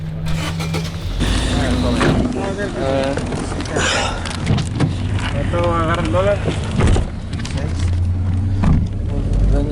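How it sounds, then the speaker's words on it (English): A taxi cab drives through Piedras Negras, its low interior road rumble running steadily beneath people talking inside the car. "The taxi begins driving, eastbound, away from the border plaza and into the heart of Piedras Negras."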